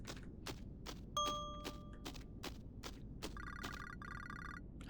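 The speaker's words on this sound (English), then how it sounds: "Phone ring." Telephone ringing in the horror video game Midnight Pizza, repeated electronic rings and bell-like tones in a regular pattern over quiet ambience, with a brief chiming melody near the end.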